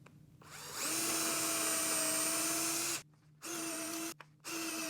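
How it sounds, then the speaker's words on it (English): Drill bit boring holes through plywood, a rising whine of the drill spinning up, then two more short bursts separated by brief pauses, close and loud. "I'm just going to drill these out real quick with this same bit"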